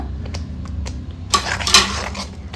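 A spoon scrapes and clinks against a cooking pan while turmeric, Kashmiri chili and coriander powders are stirred into egg curry masala, light taps at first, then a louder burst of scraping, under a low background hum.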